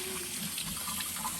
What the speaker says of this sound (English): let's wash these babies up